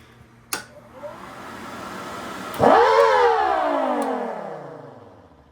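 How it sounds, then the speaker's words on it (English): A small mechanical siren gives a short, loud growl, its tone swooping up sharply and then slowly winding back down, heard up close. "I'll do a short blast with the blower here, actually a growl here"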